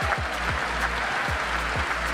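Congressmen in a legislative chamber applaud in a brief, fairly soft burst of scattered clapping, with a few low thuds under the patter.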